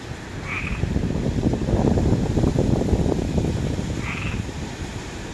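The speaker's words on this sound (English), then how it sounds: "y'all hear the frog?" A frog croaks steadily outdoors during Hurricane Ian, a dense rhythmic pulsing set against a constant roar of wind and storm noise, moderately loud and continuous, with no talking.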